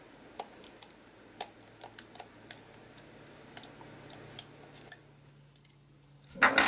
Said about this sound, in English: Let's take the cellophane off.